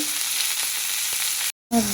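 A spice paste with whole cumin fries in a pan, giving a close, steady sizzle that cuts out briefly near the end before returning.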